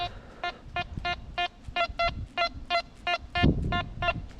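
A metal detector's signal: a quick, steady string of short electronic beeps, about a dozen evenly spaced, each a clear pitched tone over a low background rumble.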